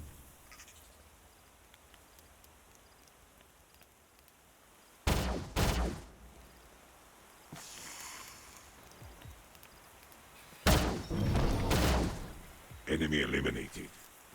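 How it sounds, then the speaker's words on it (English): Shooting attacks in the video game Age of Wonders: Invasions, two pairs of sharp bursts a few seconds apart, each followed by rattling impact noise, with quiet ambience between them. "I think we'll just shoot twice"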